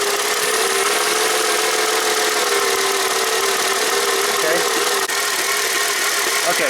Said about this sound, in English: Okay, so the car is still misfires.